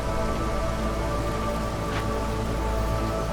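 Steady drizzle-season rain falls in Against the Storm, a constant close patter on surfaces with a faint rumble beneath, continuous and without voices.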